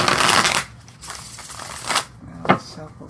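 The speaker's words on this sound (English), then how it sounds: "Well, it shuffles nicely." A deck of oracle cards being shuffled by hand, with bursts of riffling and rustling card noise near the start and middle, interrupted by a brief spoken exclamation.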